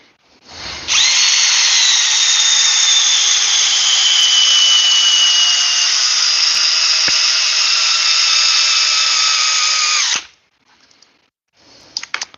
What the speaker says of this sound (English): I could say that this drill is one-hand operation.